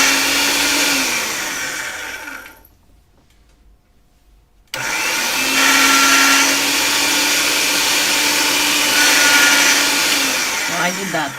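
A motorized pasta-style machine rolls polymer clay cane for a snowflake design, a loud steady whirring hum that cuts out for about two seconds and then resumes, with no voice over it.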